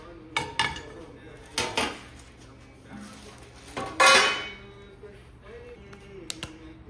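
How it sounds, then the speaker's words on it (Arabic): Dishes and cutlery clatter in a few separate bursts as they are put into a dish basket in a kitchen, with one louder clang of metal and ceramic, close by between quiet pauses. "هاخد بقى المواعين دي بسكتي"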